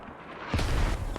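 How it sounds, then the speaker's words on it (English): A friendly mortar shell in the military shooter Squad explodes a short way off, a single deep boom that swells in after a quiet moment and rumbles on briefly. "friendly mortars coming down a little too far"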